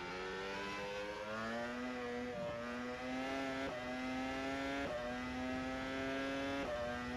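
BMW 330i M Sport BTCC race car engine in the rFactor 2 racing game, a loud, steady high-revving drone that climbs through gears with brief dips at shifts, continuous and close throughout.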